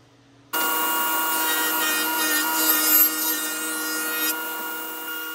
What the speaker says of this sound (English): I decided just to go with the table saw, and it worked out fine